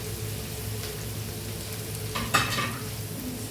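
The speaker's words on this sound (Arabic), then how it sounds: "نشوحه كده لحد ما يدبل" Thinly sliced shawarma ingredients sautéing in a hot pan, a steady close sizzle with stirring and a brief louder scrape of the utensil partway through.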